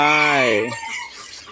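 Bantam chickens in Khon Kaen: a loud, close rooster crow lasting under a second, followed by softer clucking and background noise.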